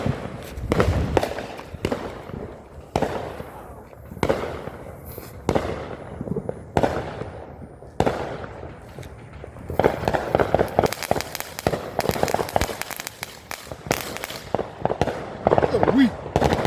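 A "tank" consumer firework going off at a July 4 celebration, making repeated sharp pops and crackling bursts in an irregular rhythm, loud and close, while people talk over and around the blasts.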